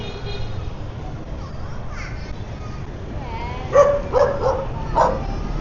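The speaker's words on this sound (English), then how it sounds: "The dog was barking at me and they were chained up." A chained dog on a Saigon street at night barks at a passerby, a short burst of several sharp barks partway through over steady street noise.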